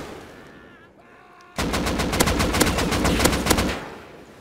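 Gunfire in the video game Rust: after a quiet moment, a loud, rapid automatic burst of closely spaced shots rattles on for about two seconds, then cuts off.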